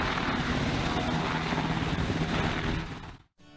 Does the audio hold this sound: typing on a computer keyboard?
no